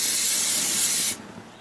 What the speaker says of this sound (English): so that's the trick, cooking spray